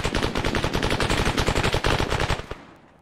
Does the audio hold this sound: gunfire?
yes